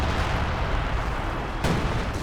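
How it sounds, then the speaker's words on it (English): Major Artillery barrage in Company of Heroes 2, a dense rumbling wash of distant shell impacts with a sharper crack near the end, sustained and loud throughout. "Major Artillery is not exactly high density of rounds."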